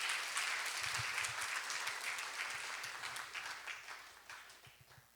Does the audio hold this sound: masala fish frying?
no